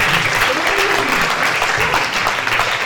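A church congregation applauding loudly for Jesus during a testimony, dense sustained clapping from a large crowd that fills the whole moment, with faint voices mixed in.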